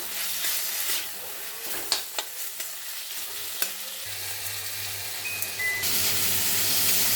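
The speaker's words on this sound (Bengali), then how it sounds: "এই অবস্থায় আমি ক্যাপসিকাম ও মটরশুঁটিগুলোকে দিয়ে দেব। আবারও কিছুক্ষণ নেড়ে চেড়ে নেব।" Capsicum and peas are stirred into a spice paste frying in a pan for a vegetarian dish. A steady sizzle runs throughout, broken by several sharp spatula scrapes and clinks, and the frying grows slightly louder near the end.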